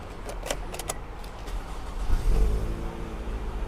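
A 2013 Toyota Camry 2.0 G automatic runs with a steady low engine hum close by, swelling slightly midway, with faint jingling clinks at the start.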